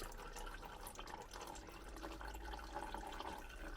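Engine oil running and trickling out of the removed oil filter on a 1.6 petrol Vauxhall Astra G during a DIY service, a steady liquid pour with small drips, close and continuous with no talking.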